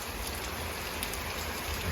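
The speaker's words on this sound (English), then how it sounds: "it is good to get rain" Steady rain falls on a garden during wet weather after a drought, a soft, even patter and hiss continuing without a break, quiet and close.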